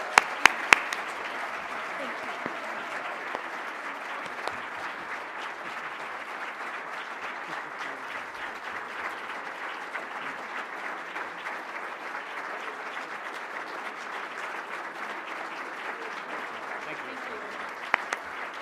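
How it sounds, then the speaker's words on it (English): Warm, sustained audience applause honoring a retiring staff member at an award breakfast, a dense, even wash of clapping with a few sharp nearby claps at the start and end. "Let's please give Sarah a warm round of applause."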